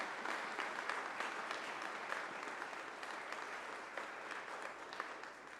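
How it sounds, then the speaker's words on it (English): A church congregation gives a sustained round of applause for a returning youth mission team, an even wash of clapping heard at a distance throughout. "give them one more round of thanks and applause and encouragement"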